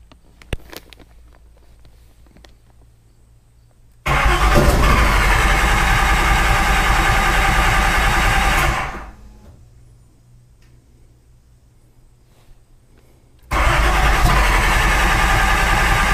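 A Datsun 240Z turbo engine running on Megasquirt is cranked and starts, with a loud roar that holds for about five seconds and then dies, followed by a quiet pause and a second loud start near the end.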